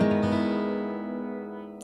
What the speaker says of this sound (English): This is my guitar. It is an acoustic guitar